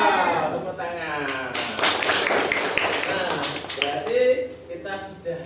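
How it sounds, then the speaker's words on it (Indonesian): Elementary schoolchildren in a fifth-grade classroom clap together during a math lesson, a dense, close burst of claps and taps mixed with excited young voices and chatter. "Wow, tepuk tangan"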